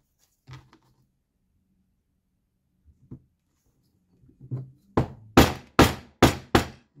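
A new small hammer strikes a leather case for small carving chisels: a few soft scattered taps, then five sharp, loud, close blows in quick, even succession.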